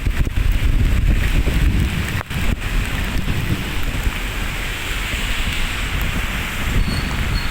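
Strong typhoon wind from Typhoon Enteng buffets a microphone at Manila Bay, a loud continuous roaring rush with gusty low-frequency blasts and a rain-like hiss, no talk.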